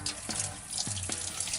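A shower runs inside a campervan, its close, steady spray of water shifting in tone as the stream hits the body, with no one speaking.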